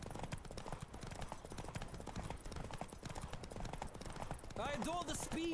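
A horse gallops in a race in The Witcher 3, its rapid rhythmic hoofbeats pounding steadily throughout, with voices and other game sounds mixed in and a brief tonal call near the end.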